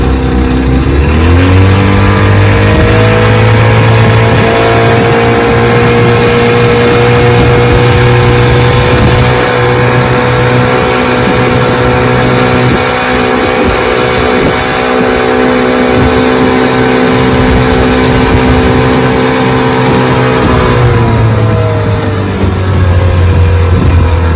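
A restored vintage Evinrude outboard boat motor runs loud and close, its steady mechanical drone holding for the whole stretch with small shifts in revs and no talk.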